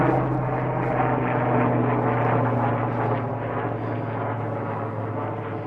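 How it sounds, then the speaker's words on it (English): A helicopter drones steadily overhead, its engine hum and rotor noise loud and constant throughout. "we've got a noisy helicopter going over right now"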